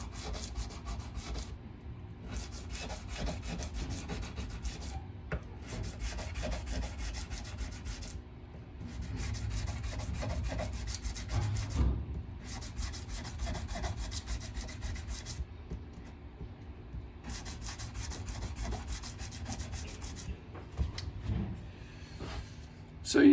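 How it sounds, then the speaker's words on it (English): Guitar frets being sanded with 180-grit sandpaper wrapped around a file: steady, repeated back-and-forth rubbing strokes in bursts with short pauses, close and moderately loud, with occasional talk under it. "We'll just wrap it around this file here, and we will sand each one of these frets."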